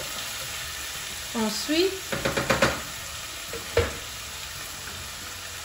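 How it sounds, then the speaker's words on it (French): Spinach and beef cook in a pan for a smoked-fish stew, with a quiet, low sizzle and a short run of stirring clatters. A voice speaks briefly, and one clearer knock follows. "On mélange bien."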